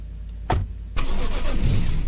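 A video game car engine cranks and catches with a short burst, then settles into a loud, steady running rumble close by.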